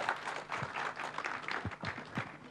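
Audience applause at a morning panel discussion at a Kenyan meat expo, a short burst of steady clapping from a crowd in a hall.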